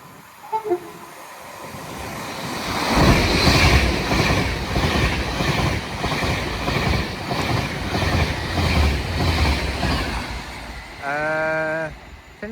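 An Avanti West Coast passenger train, running from London Euston toward Liverpool on the West Coast Main Line at Nuneaton, passes with a loud, steady rolling rumble that swells in, followed by a brief tonal horn-like note near the end.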